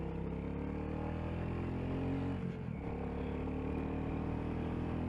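Royal Enfield Classic 350 single-cylinder motorcycle pulling steadily with revs slowly building, a continuous engine drone heard up close over wind, with no talking.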